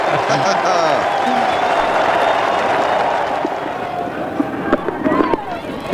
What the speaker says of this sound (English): the crowd give him an enormous cheer here at Lancaster Park